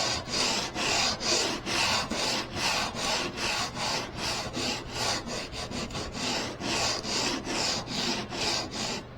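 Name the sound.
sanding varnish off a wooden boat coachroof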